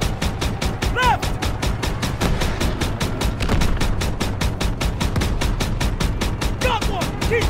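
Sustained automatic gunfire from a World War II battle in Call of Duty: WWII, rapid rhythmic bursts running nonstop and loud throughout, with a few higher whizzing effects layered in.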